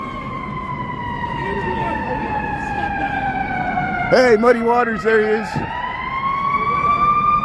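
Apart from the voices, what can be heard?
ambulance siren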